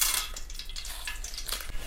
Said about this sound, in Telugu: కొన్ని తాలింపు గింజలు వేసిన